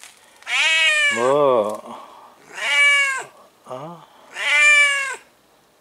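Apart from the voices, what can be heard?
cat meowing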